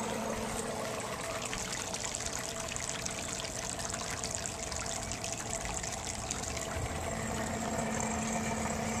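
Steady rushing and splashing water from a pump draining a pond, a continuous gush with a low motor hum underneath, close and fairly loud throughout.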